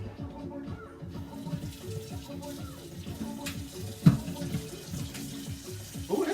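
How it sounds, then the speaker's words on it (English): Tap water running into a cooking pot in a home kitchen, a steady splashing stream with small clunks of the pot, continuous and close. "Just put some water in the pot."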